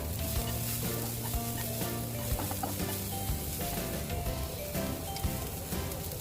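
Minced garlic, chili and spring onion stir-frying in a hot pan for tofu in oyster sauce, a steady loud sizzle with scraping stir strokes throughout, no talking.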